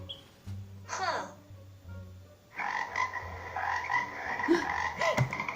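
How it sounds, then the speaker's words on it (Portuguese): Frog croaking from an animal-sounds sequence, a raspy burst near the start followed by a denser stretch of repeated croaks and chirring that runs loud to the end, with no talk over it. "Rã."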